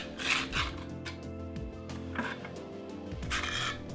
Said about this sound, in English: Next, I scraped off the excess mortar with the putty knife, trying to go in the same direction as the mortar joints.